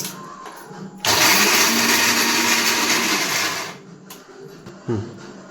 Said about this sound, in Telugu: ఇప్పుడైతే మిక్సీ పడుతున్నా ఫ్రెండ్స్,